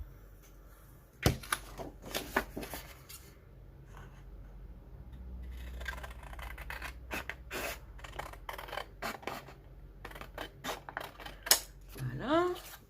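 Paper for a wedding scrapbook album page being cut, with several crisp scissor snips and rubbing, scraping handling noises close by, separated by pauses.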